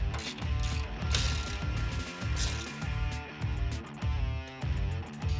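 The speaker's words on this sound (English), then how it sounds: "we'll cinch it down to the brackets" A ratchet wrench cinches down bolts on the brackets of RPT2 truck running boards, a rapid close clicking in repeated bursts of strokes with brief pauses between them and no talk.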